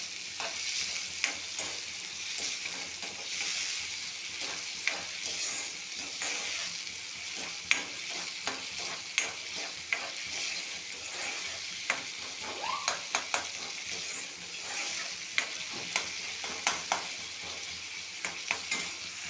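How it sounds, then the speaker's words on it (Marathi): Onion and tomato sizzle steadily in a pan as the base for a prawn, potato and fresh cashew curry, with repeated scrapes and clacks of a stirring spoon throughout and no talking. "इथे मी कांदा आणि टोमॅटो घातलेला आहे आता फ्लेमवरती चांगला परतून घेऊया"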